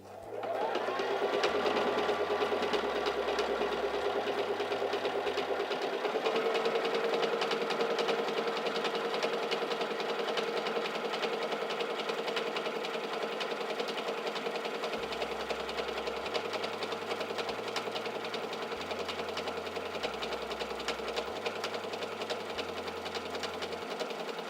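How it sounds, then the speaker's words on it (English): Singer 3337 sewing machine stitching a honeycomb pattern on fabric, a steady fast motor whir with rhythmic needle clatter that holds loud and continuous throughout, the pitch shifting slightly as the stitch pattern changes. "And now we can stitch out a honeycomb stitch."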